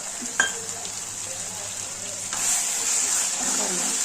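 Masala for mutton gravy frying in hot oil in a home kitchen, a steady close sizzle that grows a little louder partway through, with a brief clink near the start.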